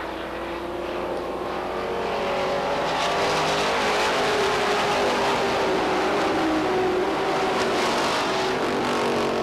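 Stock cars roar around Beech Ridge Motor Speedway in a 1992 weekly race, engine noise swelling from a distant hum to a loud, sustained pack drone as cars pass nearby.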